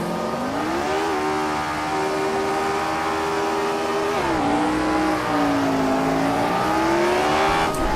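A Lotus 25 race car at the Brands Hatch race start in Assetto Corsa, its engine holding a steady high-pitched drone, then revving up and shifting pitch through gear changes, loud and close with no talk.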